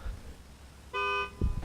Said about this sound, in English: There's his honk.